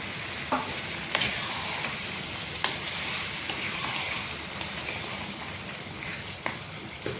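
Potatoes tipped into a simmering beef curry with bone-in meat hiss and sizzle steadily in a pan, with a few sharp scrape-and-clack accents from the stirring spoon and no voices.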